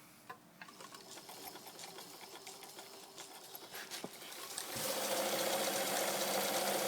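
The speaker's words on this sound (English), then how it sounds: "this is a working sewing machine. Ah, notice the consistent fluidity of the up and down motion." A Morse sewing machine runs with its needle moving up and down, giving a steady, rapid mechanical clatter close by that grows noticeably louder and fuller toward the end.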